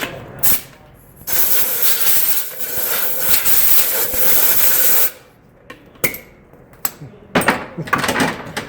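Spray cleaner and compressed air blast a funnel clean while installing radiator hoses on a 2018 BMW S1000RR, a long loud hissing stream followed by several short sharp bursts, close up.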